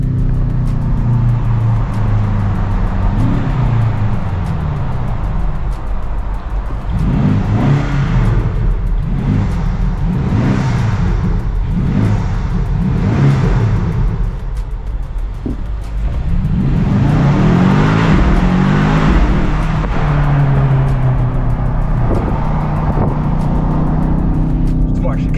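A BMW XM Label Red SUV of 750 hp accelerates hard on the road, its engine swelling and dropping through loud revving surges while someone talks over it throughout.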